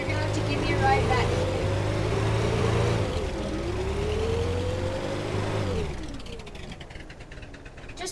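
A quad's engine in a driving game revs and whirs up and down in rising sweeps, then cuts off into quieter rumble near the end, with players talking over it.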